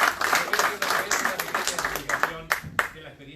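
Scattered audience clapping at a political coaching workshop, a few people applauding in short irregular bursts that thin out toward the end, with speech-like sound mixed in.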